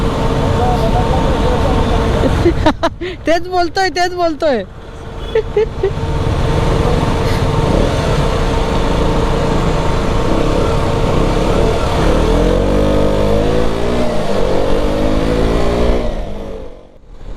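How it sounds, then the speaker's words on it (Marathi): Road traffic jam with motorbikes. Engines and horns rumble throughout, with a burst of loud honking early on. Someone speaks briefly over the steady roar of nearby vehicles. "तर इथे फुल ट्रॅफिक जाम आणि त्याच्या 2 बाईक्स बघा."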